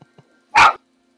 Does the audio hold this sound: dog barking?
yes